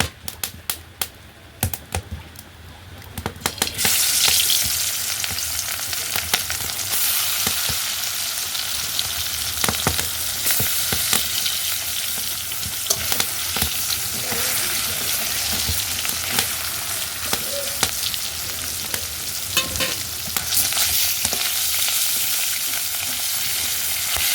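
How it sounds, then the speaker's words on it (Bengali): Rohu fish tail pieces fry in hot oil in a wok, a dense steady sizzle that swells after a few seconds and crackles on with sharp pops throughout, close and loud with no talking. "আমার তেলটা কিন্তু গরম হয়ে গেছে আমি এখন মাছগুলো ছেড়ে দেবো"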